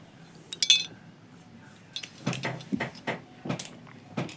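Cauliflower and potato sautéing in a pan for a cauliflower roast, heard as a string of clinks and scrapes from a spoon against the pan, close and irregular, without talking.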